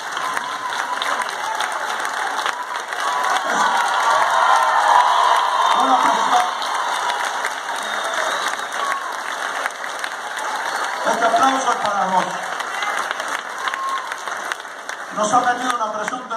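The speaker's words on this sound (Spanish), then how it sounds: "voy a pedir un aplauso para Antonio Gasalla primero también" A theater audience at a magic show gives sustained applause for comedian Antonio Gasalla, with cheering and whoops mixed in and voices calling out intermittently over the clapping.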